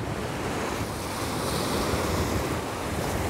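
Ocean waves breaking against a shore on Norderney in the North Sea, a steady loud rush of surf and wash with wind noise buffeting the microphone throughout, no voices.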